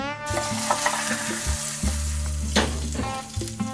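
A cup of water poured into sizzling Chapagetti noodles in a hot pan, giving a loud burst of hissing and bubbling with several stirring clatters, and no speech.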